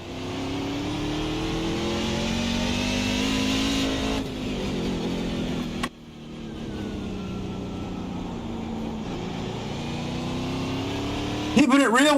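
NASCAR truck in a racing video game at Qualcomm Circuit, Naval Base Coronado: a loud, continuous engine drone that drops in pitch at each downshift under braking, then settles into a lower rumble before a brief rev near the end.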